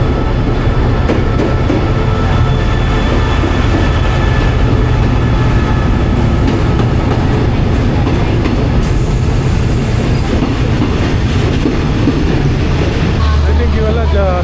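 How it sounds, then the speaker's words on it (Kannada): An overnight train in Thailand pulls into a station, a loud, steady rumble of rolling cars and clattering wheels that fills the whole stretch, with a brief high squeal partway through. "ಇದೇ ಟ್ರೈನ್ ನಮ್ಗೆ ಬಂದಲ್ಲ."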